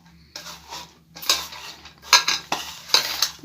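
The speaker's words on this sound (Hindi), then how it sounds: "अब ये हम मेथी भाजी डाल देते हैं इस तरीके से। अब इसे अच्छी तरीके से मिला देते हैं" Chopped fenugreek leaves, chillies, ginger and onion mixed for methi pakoras in a bowl, heard as close scraping and clattering of a utensil against the dish in repeated bursts separated by short pauses, with no talking.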